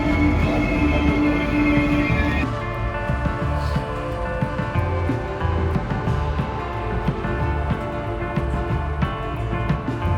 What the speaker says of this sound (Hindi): और ये मेरी ट्रेन का आगमन हो गया है